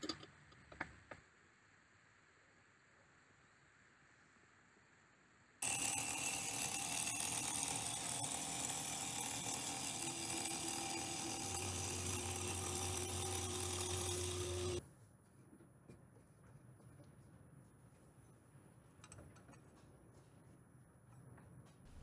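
A CNC machine mills a fixture from a laminated block, a loud steady whirring run of about nine seconds that starts and stops abruptly between quieter shop background.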